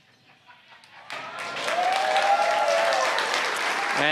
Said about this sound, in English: the cheering behind me